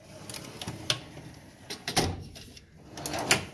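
A Snap-on toolbox drawer slides open with light metallic rattles and scattered clicks of tools shifting inside, quiet and close with a few sharper knocks.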